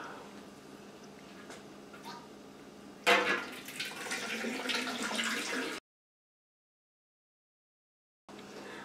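Pineapple juice poured from a punctured can into a bowl of holiday punch, a sudden splashing gush that streams steadily for a few seconds before stopping, with faint talk earlier.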